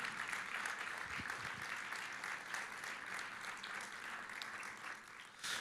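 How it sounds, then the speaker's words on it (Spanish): A church congregation applauding in praise during a service, a continuous even roar of many hands clapping at a distance, soft overall and tapering slightly near the end. "Fuerte ese aplauso de alabanza al Señor."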